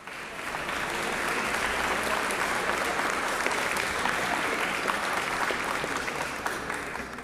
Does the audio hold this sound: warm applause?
yes